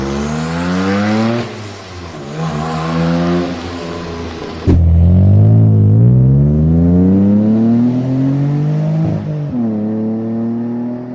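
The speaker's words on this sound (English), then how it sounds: "this 3-litre Ford Duratec V6 was used in the Noble M12, though with the Noble it was twin turbocharged, but it still sounds surprisingly similar to the Mondeo" A Ford Mondeo's 3-litre Duratec V6 revs hard and loud up close, climbing and falling through several throttle blips with a deep, rising engine note.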